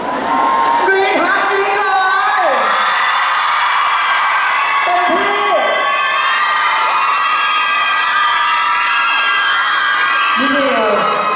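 A crowd of fans shrieking and cheering loudly and continuously at an artist launch event, high-pitched screams rising and falling throughout, with a few shouted calls cutting through.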